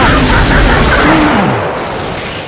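A loud, sustained explosive rumble from the Naruto Shippuden Ultimate Ninja Impact game fills the whole stretch, booming at first and then slowly fading out.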